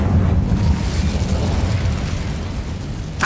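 Incendio fire spell cast in Hogwarts Legacy: a loud, continuous roaring whoosh of flame with deep rumbling body that holds steady for several seconds, ending with a brief bright crackle.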